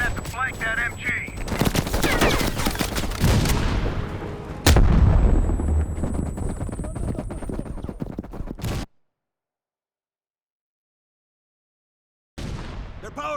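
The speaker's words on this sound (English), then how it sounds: "Val, you're gonna have to flank that MG." Machine gun fire in the Call of Duty Cold War campaign: sustained heavy automatic bursts with booming impacts and explosions, loud and close, cutting out to silence partway before the gunfire resumes.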